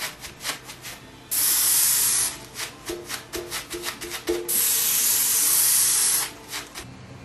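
An airbrush sprays paint across a Harley-Davidson motorcycle tank in two long steady hissing bursts, with short quick puffs of spray between them, close and fairly loud.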